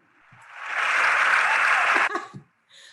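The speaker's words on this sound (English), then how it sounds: "I love this sound of applause." An audience applauds at a poetry reading, the clapping swelling quickly, holding steady for about a second and a half, then breaking off abruptly into a few scattered claps.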